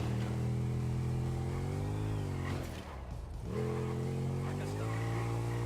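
A Yamaha TMAX 500 motor scooter engine in GTA 5 drones and rises in pitch as it accelerates, dips briefly, then revs up again steadily.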